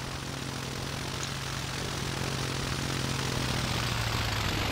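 A propeller plane departs in an airport game, its engine holding a steady low drone under a broad airy rush that grows slightly louder toward the end; no talk.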